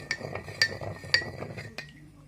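A spoon clinks repeatedly against the sides of a cup while stirring salt into water for pickling cucumbers, with light bright taps at an uneven rhythm, close up and quiet.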